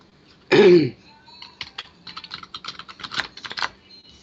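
A loud rustle at the start, then a quick run of soft papery slaps and riffles as a deck of tarot cards is shuffled, close by with no talking.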